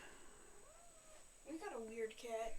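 A cat meows in a drawn-out, wavering way, with several rising and falling calls that grow louder toward the end, heard faintly over low background hiss.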